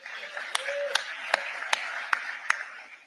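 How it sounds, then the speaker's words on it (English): Clapping in the Ziegfeld Ballroom at the Atlantic Council Global Citizen Awards ceremony in New York: six sharp, evenly spaced claps about half a second apart over a low murmur of the room. "give yourselves a big round of applause"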